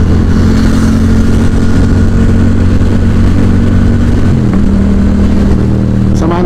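A Triumph triple motorcycle engine runs close by, a loud steady throb that shifts pitch slightly near the end, with a brief rising rev at the finish.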